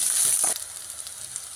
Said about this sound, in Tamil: நறுக்கின சின்ன வெங்காயம், பச்சை மிளகாய், இது எல்லாமே லோ ஃப்ளேமில் வச்சு நல்லா வதக்குறேன்.